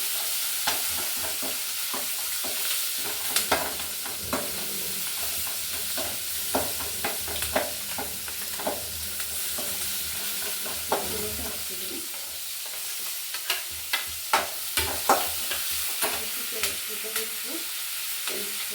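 Ivy gourd (bendekayi) fries in a pan under a constant bright sizzle, with frequent clicking stirs of a spatula against the metal throughout, close and unaccompanied by speech.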